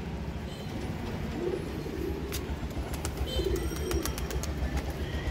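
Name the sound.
pet pigeons cooing on rooftop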